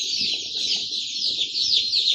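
Three-day-old ordinary ducklings peeping continuously in a high-pitched, overlapping chorus, close and fairly loud, with soft low shuffling beneath.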